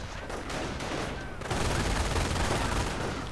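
Gunfire in a WWII strategy game battle, with American and German snipers and infantry around bocage hedgerows; dense, continuous crackling shots build into a louder steady barrage partway through.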